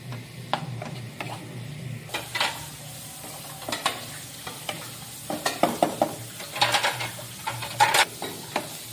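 Onions frying lightly in melted butter give a soft, constant sizzle, with repeated close scrapes and clacks of a spoon stirring the pan.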